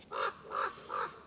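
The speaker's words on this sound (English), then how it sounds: "There's a crow laughing at me." A crow outdoors gives three evenly spaced harsh caws, each short and rasping, moderately distant and fairly faint, with no voices over them.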